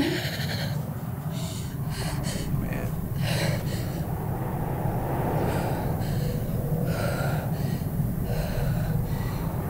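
Slow, heavy breathing with audible gasping inhales and snorting exhales, close and steady throughout, with some voice activity mixed in.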